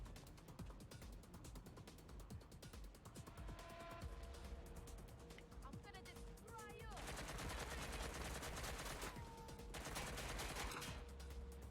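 Rapid gunfire from Watch Dogs Legion rattles in fast mechanical bursts throughout, dense and clicking, growing louder and heavier toward the later part with no talk.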